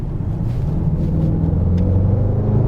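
A 2019 Mercedes-AMG GT 63 S 4-door in sport mode rumbles with a deep, steady exhaust tone heard from inside the cabin, loud and continuous with a low droning burble.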